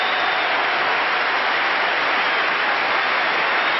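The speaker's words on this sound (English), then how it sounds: "a standing ovation for the great player." A cricket ground crowd rises in a standing ovation for Viv Richards, dense continuous applause and cheering that holds loud and steady throughout, a broad wash of clapping.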